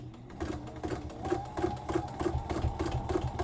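A sewing machine does free-motion stitching with the feed dogs lowered while upcycling a shirt. Its rhythmic, fairly quiet mechanical chatter has irregular stitch bursts close by.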